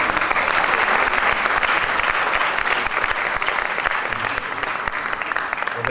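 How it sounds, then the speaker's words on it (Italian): A large audience applauds steadily and loudly at a charity event in an auditorium in Roccella Ionica, the dense clapping sustained throughout without a break. "vi prego di fare un applauso"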